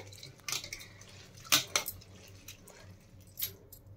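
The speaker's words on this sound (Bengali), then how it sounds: "তো ভালো করে এইভাবে খোসাগুলো ধুয়ে এখন পরিষ্কার করে নেব ডাল আমি" Soaked urad dal is rubbed and washed by hand in water, making soft wet squishes, splashes and drips in a few separate bursts, close and fairly quiet.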